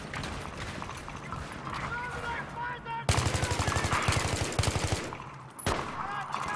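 An AK rifle fires rapid automatic bursts in Battlefield 3, loud and close. The shots start after a few seconds of busy battlefield noise and carry on with a brief pause near the end.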